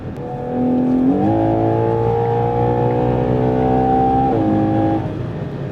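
A 2025 Ferrari Purosangue SUV engine revs and accelerates, its pitch climbing through gears in a loud, sustained roar with a brief shift in the middle.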